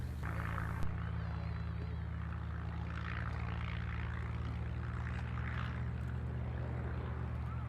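A P-51 Mustang propeller aircraft coming in to land at Duxford airfield during an air show, a steady droning engine hum that stays constant throughout at moderate distance.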